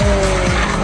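A Mugen Civic Type R with a VTEC Honda engine is driven hard, giving a short loud burst of high-revving engine with a squealing edge, close and without speech.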